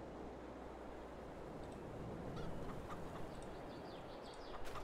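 Chickens cluck faintly in a garage yard, soft intermittent clucks and short calls set against a steady, noisy background hiss with no voices.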